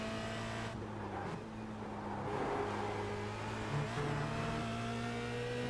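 A Star Mazda race car in the iRacing simulator, its engine held at a steady high drone with gear changes and slight shifts in pitch as it runs hard around the track, with no one speaking.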